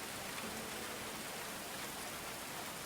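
Steady rain falling in the medieval colony game Going Medieval, a dense, even hiss of drops on surfaces that holds at the same level for the whole stretch, with no talk over it.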